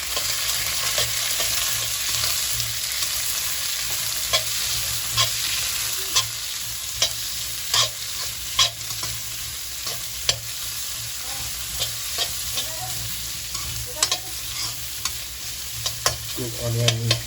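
Mutton and onions fry in oil in a pan with a constant crackling sizzle, punctuated by regular spoon or spatula knocks and scrapes against the pan, close and without talking.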